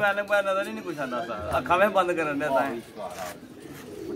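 Pigeons coo softly in a pigeon-keeping setting, mostly buried under a man's close, continuous talking.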